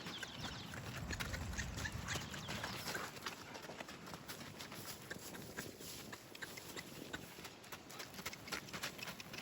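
A mare walks along, her hooves clopping in a quiet, irregular rhythm against a faint background hiss, with no talking.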